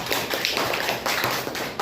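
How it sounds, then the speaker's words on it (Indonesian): A school class gives a round of applause, brisk close clapping from a group of students, loud and steady for under two seconds. "Oke, tepuk tangan buat semuanya."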